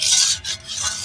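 A spoon stirs a Bengali koi fish curry in a pot just after water is added. There is a short, soft scraping swirl with a brief pause in the middle.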